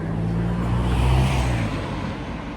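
A car passes close by on a street, its broad road roar swelling to a peak and then fading, loud and with no one talking.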